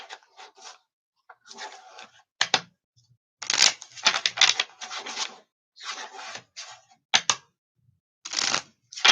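Tarot cards are shuffled by hand in quick bursts of riffling and rubbing, several separate close, crisp passes broken by short pauses.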